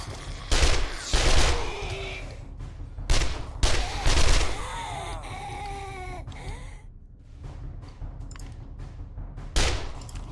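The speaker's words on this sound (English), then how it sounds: "I don't know how that big explosion happened, but it did." Explosions and gunfire-like blasts in the video game 7 Days to Die come as several loud, sharp bursts spread across the stretch. Quieter rumbling and some voiced sounds fill the gaps between them.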